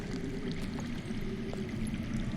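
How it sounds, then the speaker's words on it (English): Underground water flowing in the Game of Thrones Telltale game, a continuous low rushing, pouring stream heard faintly at a distance with no talk. "I hear water. From underground."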